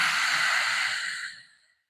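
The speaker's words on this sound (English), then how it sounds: "let's take a nice full inhalation. And let's exhale." A single deep, breathy exhalation during a chair yoga session, a close, soft rush of air that fades out over about a second and a half.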